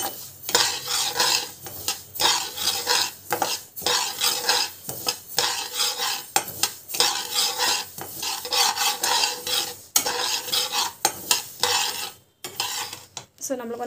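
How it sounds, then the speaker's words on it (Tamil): Mustard seeds roast dry in a pan under constant stirring, a rhythmic run of close scraping and rasping strokes with metallic utensil clatter, pausing briefly between strokes. "கடுகு வந்து நல்லா வந்து வறுத்துக்கலாம்"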